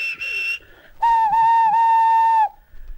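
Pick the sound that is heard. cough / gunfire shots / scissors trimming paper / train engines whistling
train engines whistling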